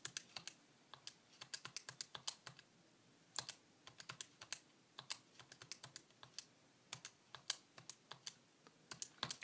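Data values being keyed into a calculator: quiet, steady clicking of buttons in uneven clusters, close and alone without talk.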